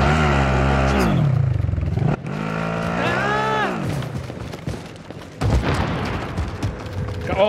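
A motorcycle engine in Call of Duty Warzone revs loudly and close, its pitch rising and falling in surging sweeps, with rattling game noise and bursts of voice around it.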